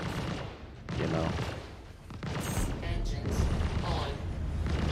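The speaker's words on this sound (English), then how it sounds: "Oh yeah, they're definitely shooting at us." Video-game turret gunfire pounds the players' ship in dense, continuous volleys of booming shots and impacts, mixed with mechanical clatter and at times partly under talk.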